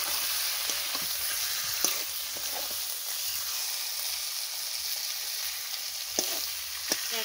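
Pieces of tilapia fish fry in hot oil in a pan, giving a continuous close crackling sizzle with scattered sharp pops and occasional stirring scrapes throughout.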